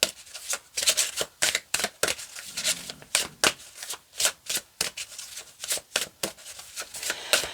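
Tarot cards being shuffled in a steady series of crisp riffling bursts, close and fairly loud, with no talking.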